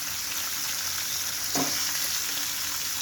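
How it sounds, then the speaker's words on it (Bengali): Fish coated in turmeric and salt fries in hot oil with a steady, dense hiss that carries through the whole stretch, with a brief louder burst of spatter near the middle and no voices. "তেল গরম হয়ে গেছে মাছগুলো হলুদ লবণ দিয়ে মাখিয়ে দিয়ে দেব আমি এখন মাছগুলো দিয়ে দিচ্ছি"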